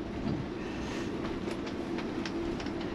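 Trains rumble past a station platform in Belgium, a steady dense roar of rolling wheels and machinery with faint clicks, continuous and fairly loud throughout.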